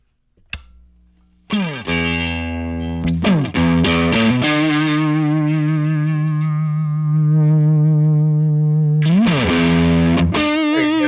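A distorted electric guitar plays a few sustained notes and chords through amp distortion, each ringing out loudly with a thick, buzzing overdriven tone.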